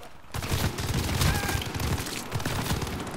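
A strafing run in a video game sounds as a dense fusillade of rapid gunfire, loud and continuous for about three seconds, with bursts and a brief swell midway.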